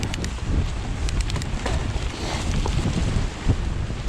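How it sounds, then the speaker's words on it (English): Strong gusty side wind buffets the microphone on an exposed outdoor trail in South Wales, roaring steadily and loud throughout with no talk. "Oh, it is windy."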